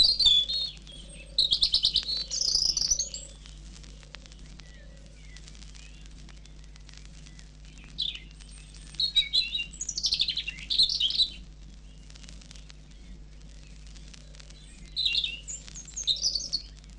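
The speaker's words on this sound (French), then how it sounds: "Mais le rouge-gorge, lui, chantait fièrement depuis déjà plusieurs semaines." European robin singing in repeated bright phrases, three separate bursts of song with pauses between, moderately near and clear over a low steady background hum.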